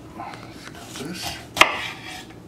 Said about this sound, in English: And also thinly slice, like this.